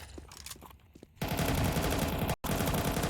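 Automatic gunfire in Counter-Strike on the Vertigo map during a ramp fight in a competitive esports match: scattered shots at first, then a loud sustained burst of rapid fire that breaks off briefly and resumes.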